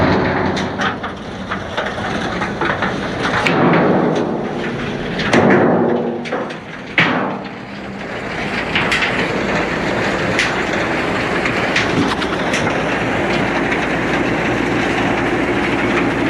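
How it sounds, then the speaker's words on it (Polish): A tractor-drawn stone picking machine works steadily in a field, a continuous close mechanical rumble and rattle with scattered knocks and clanks, running alone without voices. "maszyna cichutko pracuje"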